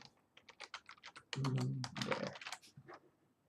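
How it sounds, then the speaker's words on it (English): Rapid, close typing on a computer keyboard, a dense run of crisp key clicks with a brief low hum partway through, loud and clear with no talking. "here, I'll just type it"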